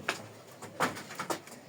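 Pigeons in a loft with eggs and a newly hatched chick coo softly in several short, separate calls, close by with a quiet background.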